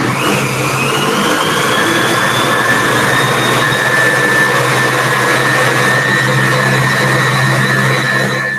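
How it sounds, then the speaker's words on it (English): A blender whirs steadily at high speed, mixing rice flour, tapioca flour and water into a slurry; the loud motor tone rises slightly at the start and then holds an even drone throughout. "So I just want to blend this quickly just to mix it up."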